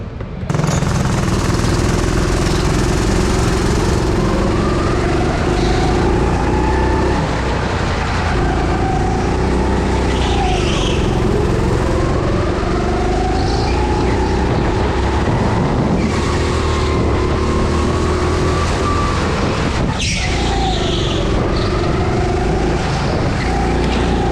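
A go-kart engine racing on a track, a loud close motor whine that repeatedly climbs and drops in pitch as it speeds up and slows, continuous throughout.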